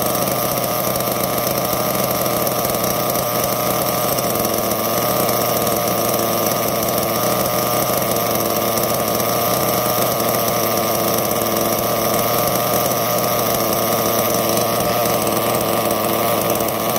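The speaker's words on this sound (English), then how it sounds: "See what kind of idle we got." A car engine fitted with a Reds Racing turbo plug idles roughly, a steady close mechanical drone with a constant hum that runs unbroken throughout, no talking.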